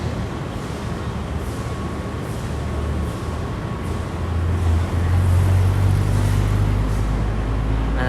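BMW car passing on a busy Manila street in BGC, a steady traffic rumble with an engine growl that rises and grows louder toward the end.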